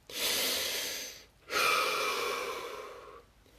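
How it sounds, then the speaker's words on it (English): Two deep breaths are heard close up, a long airy inhale followed by a long exhale, both soft and breathy, with no talking. "Take a breath."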